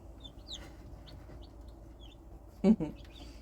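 Silkie-cross chickens and a rooster cluck softly in the background, with scattered short calls and one louder, close squawk near the end, amid quiet farmyard ambience.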